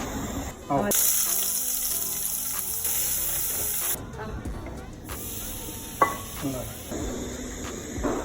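Chicken curry bubbles and simmers in a pot on the stove, a close, continuous sizzling, watery rush with occasional stirring clinks and a sharp knock, while a person talks over it.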